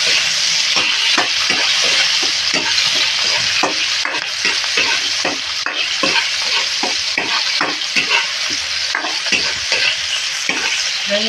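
Chopped tomato sizzling and frying over high heat in a hot pan, stirred steadily with a utensil that makes repeated scraping knocks over a constant loud crackle, close up, no talking.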